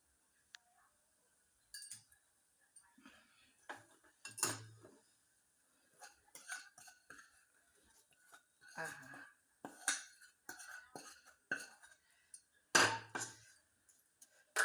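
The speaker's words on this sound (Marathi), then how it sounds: "शेंगदाणे डाळ कढीपत्ता हे टाकूया ह्याच्यामध्ये आणि सगळं मिक्स करूया" Fried peanuts, dal and curry leaves are stirred into chivda with scattered light clinks, scrapes and rustles. They come in irregular bursts of varying loudness, with quiet gaps between them.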